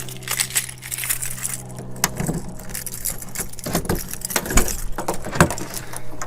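Keys jangle and clink in short metallic bursts while someone searches for Jeep keys, irregular rattles and chinks scattered across the moment over a low steady background hum, close by.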